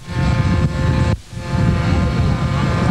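A powered light aircraft lands while towing a glider at a 1981 aviation meeting in Yverdon, a steady loud propeller drone washing over wind noise, briefly dipping before resuming.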